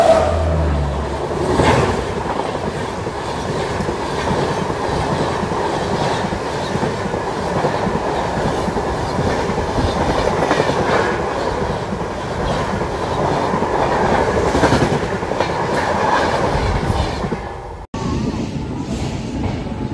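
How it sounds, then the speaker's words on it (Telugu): The Vijayawada–Lingampalli train passes at a crossing near Tummala Cheruvu. It makes a loud, continuous rumble with rhythmic clickety-clack of wheels for about eighteen seconds, then cuts off abruptly to quieter rail noise. "తుమ్మల చెరువు దగ్గరగా మన ట్రైన్కి క్రాసింగ్ పడింది"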